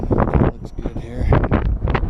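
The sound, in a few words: strong wind blowing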